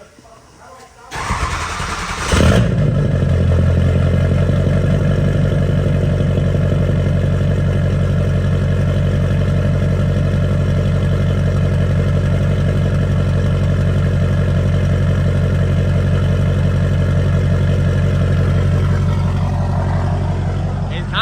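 Ford 6.0 Powerstroke diesel engine in a built truck cranks and catches, then settles into a loud, steady, deep clattering idle that runs continuously, close up, with no talking over it.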